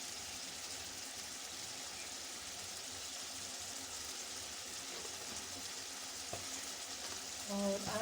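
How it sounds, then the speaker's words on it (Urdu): Spices and tomatoes fry in a pan for white lobia with chicken, giving a steady, broad sizzle that runs throughout without a break, with a few brief clinks near the end. "ان تمام اسپائسیز کو اچھی طریقے سے ٹماٹروں کے اندر بھون لیں۔"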